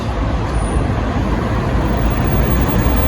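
A bus pulls in along the street, its low engine rumble steady and close amid continuous roadway traffic noise.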